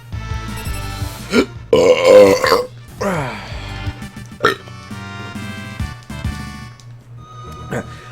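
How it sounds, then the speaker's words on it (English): A man burps several times during a Final Fantasy VI playthrough, the loud belches coming in bursts with short gaps, some drawn out and others brief. "I got a burp over here, hold on a second."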